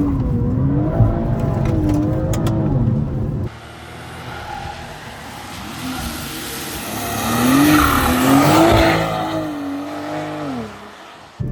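BMW M340 drifting sideways through a corner, engine droning and rising in pitch under load while the tyres squeal and scrub loudly, the sound swelling as the car slides through the turn.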